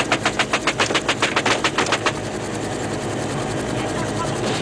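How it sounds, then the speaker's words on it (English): Rapid bursts of helicopter door-gun fire from a medic and crew chief shooting at North Vietnamese regulars, a fast rhythmic volley for about two seconds, then a steady rotor roar and engine wash carrying on alone. "He and the crew chief return their fire."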